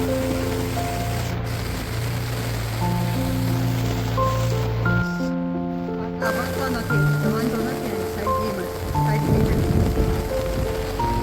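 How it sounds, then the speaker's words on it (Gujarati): A steady, heavy downpour hisses throughout, with a low rumble beneath and a sustained melodic tune playing over it. "વરસાદ ચાલુ થઈ ગયો છે."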